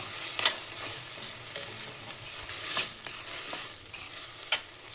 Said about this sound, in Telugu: దీన్ని పచ్చి వాసన పోయే వరకు కాస్త ఫ్రై చేసుకోవాలి.